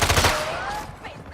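Rapid SMG bursts in a fast-paced shooter video game, loud and close, rattling quickly before trailing off.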